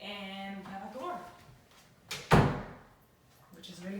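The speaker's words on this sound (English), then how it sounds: "And we have a door" A door in an empty new-build house swings and shuts with a single solid thud near the middle, after a voice talks and with a brief scrape before it.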